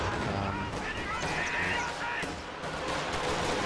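An artillery strike and gunfire in a World War II strategy game with Panzer Fusiliers. It is a dense, noisy battle din of overlapping blasts and shots at moderate volume.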